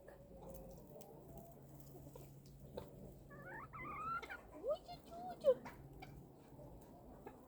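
A tiny bantam hen sings with soft chirps and warbling calls, a few brighter notes standing out near the end, over a low steady background hum.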